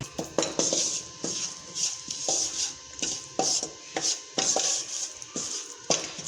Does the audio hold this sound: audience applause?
no